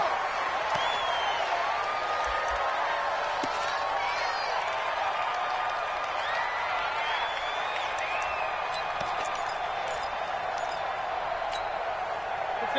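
Steady stadium crowd roar from a PS4 football video game, a constant wash of cheering and murmur throughout with occasional whoops and claps rising above it, with game commentary talking over it.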